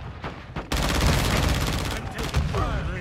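Gunfire on the Shipment map in Call of Duty, a sustained burst of rapid automatic fire with scattered nearby shots, under in-game radio voices and callouts.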